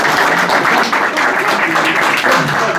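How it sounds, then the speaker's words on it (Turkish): An audience at a memorial music program claps steadily, a dense, continuous round of applause filling the room from start to finish. "Bir alkış alalım."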